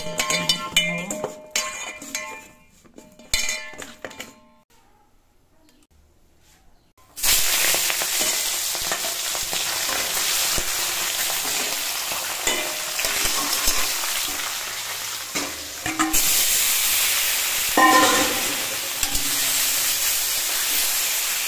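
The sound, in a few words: rohu fish frying in a pan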